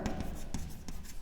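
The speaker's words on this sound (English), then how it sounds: "Now first of all, write the given data." Pen on paper writes out a physics problem's given data in a few short scratchy strokes, soft and close with brief pauses between them.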